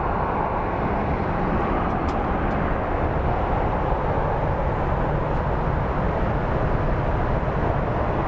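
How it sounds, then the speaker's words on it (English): Steady, broadband jet-engine rumble and rush from an airplane taxiing to the gate at Phoenix Sky Harbor airport, constant and fairly loud throughout. "That is how a plane goes to the gate."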